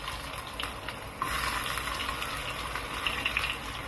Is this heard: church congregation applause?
no